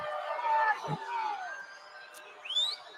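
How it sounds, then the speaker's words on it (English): Crowd at a girls' high school basketball game, Lincoln Christian vs Booker T, groaning and calling out in disapproval, a rising murmur of many voices with scattered shouts and a whistle-like squeal near the end. "And the crowd does not like it."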